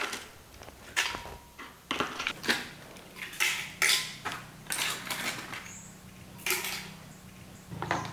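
Eggshells are dropped and shaken into a blender jar, producing a series of sharp, uneven clattering knocks close by, scattered over several seconds with a faint steady hum underneath.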